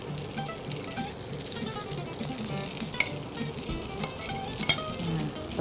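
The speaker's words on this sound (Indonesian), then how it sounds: "Lalu sambil kita tuang si pastanya, si spaghettinya ini" Spaghetti hitting a hot pan with garlic and lemon, sizzling steadily and close, with a few sharp pops and clinks of stirring over the continuous fry.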